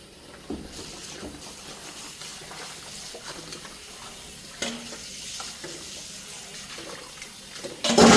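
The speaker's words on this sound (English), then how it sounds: "I'm just gonna rinse the pet dishes." Tap water runs into a kitchen sink while pet dishes are rinsed, a soft steady trickle with occasional clinks and splashes, ending in a louder burst of water.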